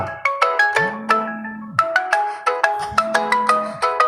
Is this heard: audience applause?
no